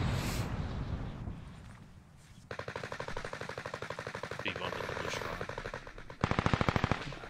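STG assault rifle fire in a video game: a long stretch of rapid automatic bursts, sharp and loud, with a heavier final burst near the end, over wind-like background noise.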